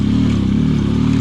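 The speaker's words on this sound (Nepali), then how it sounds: "मैले यो बाइकको पावर माने यार गाइस" A Yamaha motorbike engine drones loud and close on a mountain road, a continuous low rumble with a faint clattering edge and no talk.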